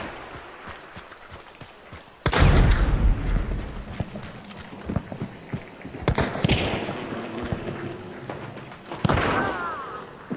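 A loud, close gunshot in the Hunt: Showdown shooter game leaves a booming tail, followed by scattered thuds and softer distant shots. Quieter voices sit under the action.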